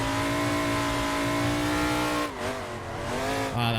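Simulated drift car engine in a Formula Drift Seattle racing game, a loud steady high rev that drops and wavers as the throttle lifts partway through, then climbs again near the end.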